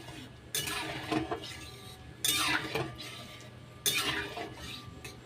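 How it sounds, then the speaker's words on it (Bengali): A spatula stirs egg biryani in a metal pot, three bursts of close scraping and clinking with brief pauses between them. "একটু খুন্তিটা বুলিয়ে নেব।"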